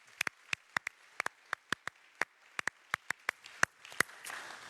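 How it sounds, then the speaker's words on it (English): Sparse, separate hand claps from a small part of the audience at the MagentoLive Europe 2019 conference, about twenty crisp claps in an irregular rhythm, fairly faint, ending in a soft wash of noise. "I'd love to give everyone another round of applause"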